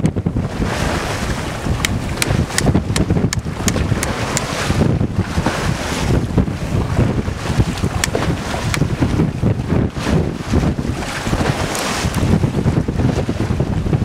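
Strong wind buffeting the microphone on a small sailboat at sea in a moderate swell near the African coast, loud continuous rushing with water sloshing along the hull and no voices.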